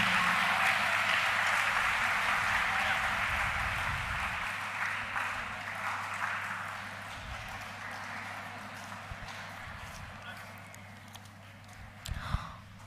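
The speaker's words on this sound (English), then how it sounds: "give a very big round of applause" Applause from a college commerce department audience at an award event, a broad, steady clatter of clapping that starts full and slowly thins and fades over about thirteen seconds, with a few louder claps near the end.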